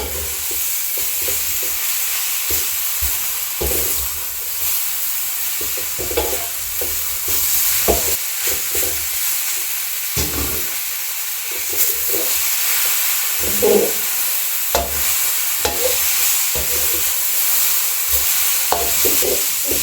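Steady sizzle of cabbage frying in a hot wok, with repeated scraping and tossing strokes from a spatula throughout; no one speaks.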